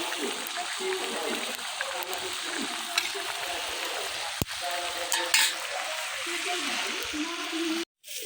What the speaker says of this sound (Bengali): এখন আলু ভাজতেছি